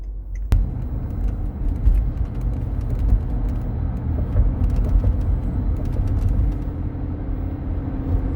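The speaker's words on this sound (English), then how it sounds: "Now going to drive the vehicle on the highway." A 2008 Range Rover cruising on the highway, a steady low engine and road rumble with faint tyre noise inside the cabin, even and continuous after a brief click at the start, no talking.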